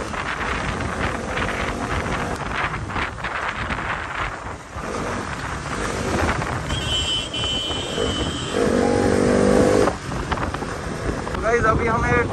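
Two motorbikes ride along a road in the Keran Valley near the India–Pakistan border, with heavy wind buffeting the microphone and a loud, continuous engine and road rumble throughout, and brief voices in the background.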